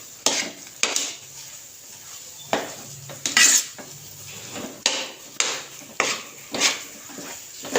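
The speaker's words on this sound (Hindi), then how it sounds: "इसके अंदर हमने मुसलसल चम्मच चलाते रहना है।" A metal spoon scrapes and clacks steadily against a pan while sooji halwa cooks, a rhythmic series of close, sharp strikes about every half second, with no talk.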